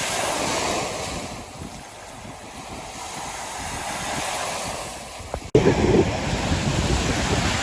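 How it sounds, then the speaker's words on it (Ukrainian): Spring sea waves washing on the shore, a continuous broad rushing roar mixed with wind buffeting, growing louder near the end. "слухати волни моря"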